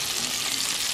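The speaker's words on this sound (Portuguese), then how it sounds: "Eu coloquei uma manteiga aqui e tô refogando ela aqui" Leftover churrasco meat sautés in butter in a pan, giving a steady, close hiss of sizzling and frying with no voices over it.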